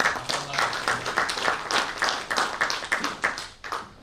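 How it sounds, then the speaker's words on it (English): An audience at a formal event on United States–India relations breaks into a round of applause, with dense, steady clapping from many hands lasting throughout and tapering slightly near the end. "So let's give them a big round of applause."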